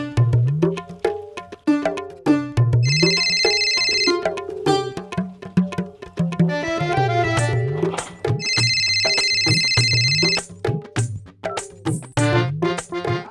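A telephone rings in a short comedy scene after a call is placed, with repeated bursts of ringing alternating with music and voices throughout.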